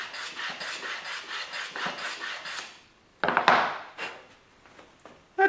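A hand plane shaves a chamfer along the edge of a wooden cutting board in a rhythmic series of rasping strokes, then a louder scrape and a few faint brushes and taps follow.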